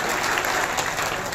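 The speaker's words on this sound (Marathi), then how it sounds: "शिवाकाकांचं करा अभिनंदन करा टाळी वाजून" A crowd at a temple anniversary gathering claps together in congratulation, a loud, continuous wash of many hands filling the whole moment without pause.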